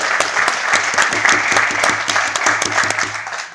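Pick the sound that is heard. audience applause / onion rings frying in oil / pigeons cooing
audience applause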